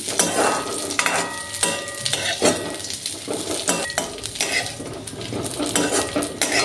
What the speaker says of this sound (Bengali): কাজু আর কিশমিশগুলোকে হালকা করে ভেজে নেব আমি